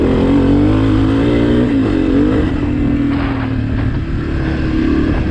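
A 2023 Honda CRF250F dirt bike engine runs loud and close throughout, its steady rumble shifting pitch as the rider blips the throttle, with no voices over it.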